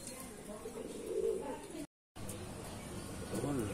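Racing pigeons coo softly at a club training loft, low murmuring calls under a steady background hum, with a brief dropout midway.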